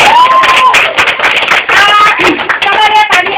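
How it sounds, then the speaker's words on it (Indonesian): Audience applause after a university theater acting performance, a dense wash of clapping at close range with voices and faint cheering mixed throughout. "Oke, tepuk tangan."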